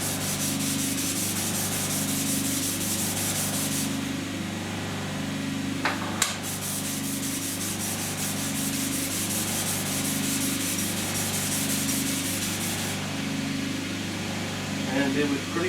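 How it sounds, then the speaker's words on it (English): Coarse sandpaper is rubbed over the surface of a large glass bevel wheel, giving a continuous rough, hissing scrape that runs close and steady under a low machine hum, with a brief knock partway through. "we keep sandpapering with the coarse sandpaper until we have the whole surface cleaned up and any scratches removed"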